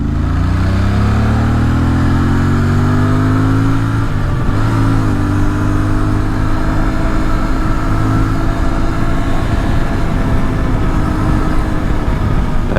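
A Moto Morini Allthrike 450 adventure motorcycle on the road, its engine droning steadily and loud throughout, pitch climbing through gears early on, then settling into a constant cruise with heavy wind rush.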